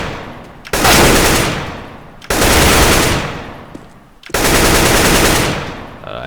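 Three loud bursts of automatic rifle fire in Counter-Strike: Global Offensive, each a couple of seconds of rapid shots fading out before the next spray begins.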